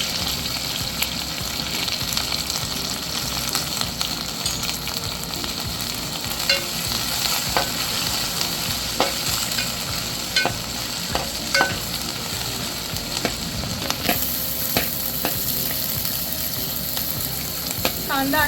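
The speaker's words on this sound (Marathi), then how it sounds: "कांदा असा भाजून घ्यायचा," Chopped onion frying in hot oil with cumin seeds in a heated pot, a steady close sizzle with repeated scraping stir strokes of a spoon against the pan, no talk over it.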